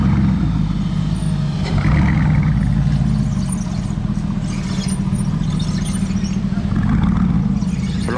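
A deep, rumbling sports car exhaust drones loud and steady amid heavy traffic noise during the Monaco Grand Prix, with faint background voices.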